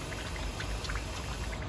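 Water poured from a bottle into a pot of potatoes in a home kitchen, a continuous close splashing pour with no gaps for the whole stretch.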